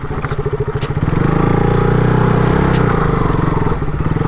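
Motorcycle engine ridden off-road over round stones, chugging in uneven pulses at first then revving into a steady, loud, close drone with clattering bumps.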